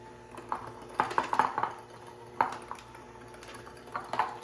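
A spoon or spatula works shortbread cookie dough of butter, sugar and flour in a bowl, giving a run of irregular scraping clinks and knocks against the bowl, fairly quiet and close, with no talking.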